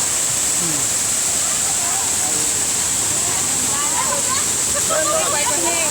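A waterfall's constant rushing water roars loudly and evenly throughout, with faint voices of people swimming and splashes mixed under the steady wash.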